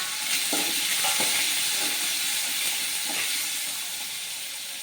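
Garlic and ginger fry in hot oil in a pan with a steady bright sizzle, broken by a few soft stirring clinks, close and continuous with no talk.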